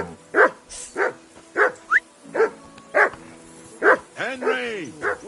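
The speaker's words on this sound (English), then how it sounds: "Whistle at that mutt of yours to stop barking." A dog in the video game Kingdom Come: Deliverance II barks in a series of sharp, evenly spaced woofs, loud and close, with a whine or yelp between them.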